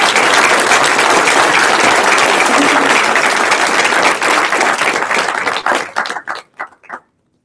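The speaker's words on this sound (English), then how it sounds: "Let's have another applause for all nine teams." A room of Game Day attendees applauds all nine competing teams, a loud dense ovation that carries on for several seconds before thinning into scattered claps and stopping.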